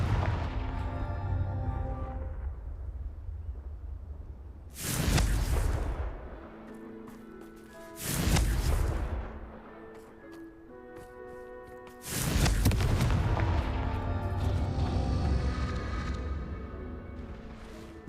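Fiery Confringo spell blasts from the Hogwarts Legacy video game, three loud booming bursts spaced a few seconds apart over a steady musical game backdrop.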